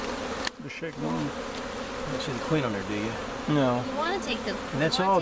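Honey bees swarm around an open beehive box in a yard, buzzing continuously at close range under quiet, intermittent talk between people working the hive.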